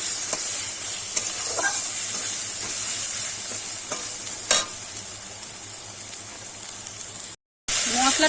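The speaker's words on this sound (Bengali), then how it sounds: "কিন্তু আমি একটু কষিয়ে নিয়েছি" Soybean curry is stir-fried in a pan with a steady, close frying hiss and scraping stir sounds running throughout, with occasional clinks and faint speech beneath.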